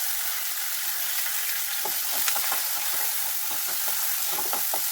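Onion and garlic fry in a pan with curry leaves and poppy seeds, a constant close sizzle broken by scattered crackles and pops, with stirring throughout.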